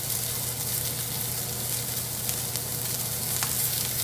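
A ribeye steak sizzles in a hot pan with butter, a loud continuous frying hiss, close and unbroken, with faint crackles.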